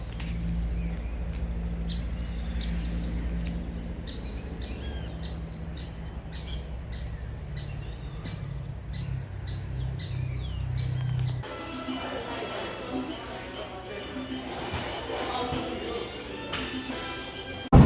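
Tropical birds singing in Costa Rica's Alajuela area: repeated bright chirps and whistled calls over a steady low background rumble, fairly close, with a rustling, noisier stretch toward the end and no talk.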